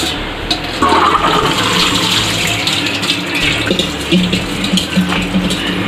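Water drains away steadily from soaked karonda berries during pickle-making, a continuous close rushing and splashing that runs for several seconds without a break.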